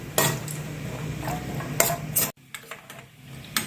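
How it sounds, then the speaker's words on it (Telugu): Cashews fry in hot ghee in a pan, with a soft sizzle under scraping stirs and a few clinks of a spoon against the metal, then a brief pause before more light stirring taps. "ఘీ వేడి చేసి అప్పుడు ఇందులో క్యాజు గోల్డెన్ కలర్లో ఫ్రై చేయాలి"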